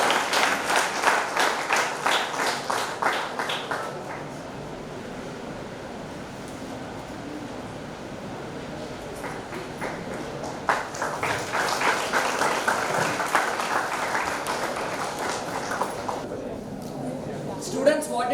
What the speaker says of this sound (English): Can we congratulate them with a big round of applause?